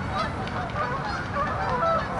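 Geese honking continuously, several birds calling over one another at close range with steady, loud, overlapping honks.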